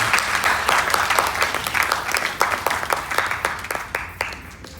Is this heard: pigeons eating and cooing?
no